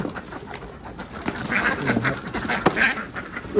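Fat, culled ducks awaiting transport to a slaughterhouse quack and chatter as a flock, with overlapping calls of varying loudness building in the middle and no speech.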